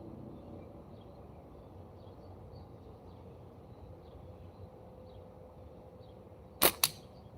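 A Scout X slingshot fires an 11mm steel ball with a sharp snap and an immediate second crack near the end, after several seconds of quiet background hum.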